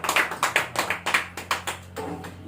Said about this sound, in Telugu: బాగుంటే గట్టిగా చప్పట్లు కొట్టాలి